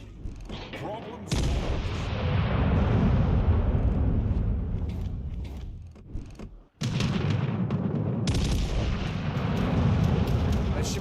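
Battleship main guns fire in World of Warships Legends, giving loud, sustained booming salvos with a heavy rumbling tail. The barrage fills most of the stretch, briefly drops away, then resumes just as powerfully.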